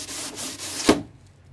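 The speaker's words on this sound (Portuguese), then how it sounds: "Fazendo o acabamento da fibra e dessa forma não ficar o vinco aqui, ó, não ficar a quina." A short burst of hand sanding on cured fiberglass while finishing a motorhome door, a steady rasping rub that ends in a sharp scrape and then fades.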